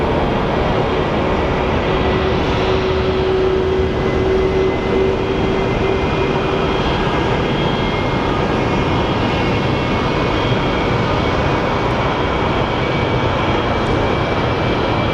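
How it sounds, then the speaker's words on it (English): A jet airliner taking off at Phoenix Sky Harbor Airport, heard as a loud, steady broadband engine roar that fills the whole stretch without letup, with no voices over it. "Nice takeoff."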